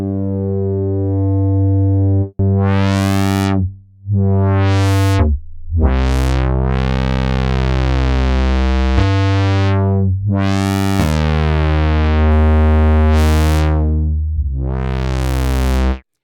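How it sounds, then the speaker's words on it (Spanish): A Moog-style bass synth patch built in Ableton Live 12's Meld, its resonant filter pushed into distortion by a clipper after the filter, playing sustained buzzy bass notes with sweeping filter swells over about sixteen seconds, loud and alone. "un clipper o limitante que genera una distorsión a la salida del filtro"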